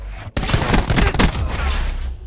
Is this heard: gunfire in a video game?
yes